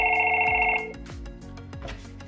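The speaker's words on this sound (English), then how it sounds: "So when somebody rings the doorbell, what we programmed is both of these phones will ring at the same time." Two Fanvil intercom desk phones ring together when the door station's doorbell is pressed, a bright electronic ring that stops suddenly, followed by low hum and faint room noise.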